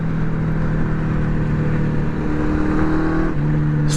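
Honda CB750 motorcycle engine running after a carburetor swap, a loud, close, continuous drone that holds one pitch, then shifts slightly lower toward the end.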